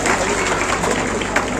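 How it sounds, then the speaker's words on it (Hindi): Audience applause for children's performances at a martyrdom day commemoration, a steady, loud wash of clapping from a crowd, filling the moment without a break. "मैं आप लोगों से कहूंगी कि उन सभी बच्चों की प्रस्तुतियों के लिए एक बार जोरदार तालियों से उनका स्वागत करें।"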